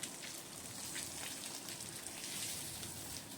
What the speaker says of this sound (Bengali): মাছগুলো ভাজা হয়ে গেল আমার